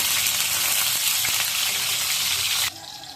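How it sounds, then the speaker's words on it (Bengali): Steady loud sizzling of garlic frying in hot oil, a continuous hiss that drops suddenly near the end. "প্রথমে আমি রসুনটা তেলে দিয়ে দিব, তেলটা কড়াইতে দিয়ে দিচ্ছি"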